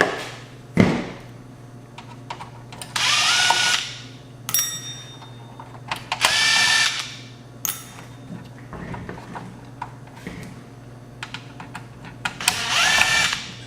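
A power screwdriver backs screws out of a Sony STR-K7000 AV receiver in repeated short whirring bursts, separated by clicks and handling noises of parts being set down, close and fairly loud.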